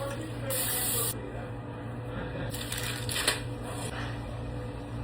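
Short hissing bursts of cooking spray coat pans for a tomato pie crust, two or three quick sprays close by over a low steady background hum.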